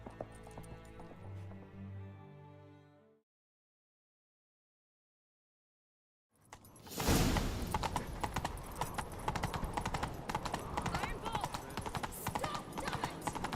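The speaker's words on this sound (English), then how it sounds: "Grab a horse, we'll chase him down." In a video game, musical tones are followed by a pause, then a horse breaks into a rapid galloping clip-clop of hooves, busy and continuous, with a snort or whinny near the start.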